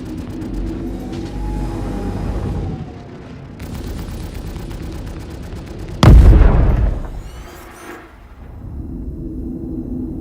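A loud gunshot cracks out in a video game police shooting, a single sharp blast with a booming tail over steady rumbling game ambience.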